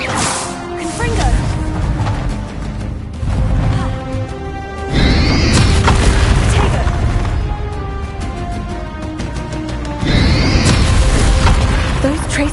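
A Confringo fire spell blasting in Hogwarts Legacy, loud booming bursts and crashes layered over game music and voices, repeating in heavy waves.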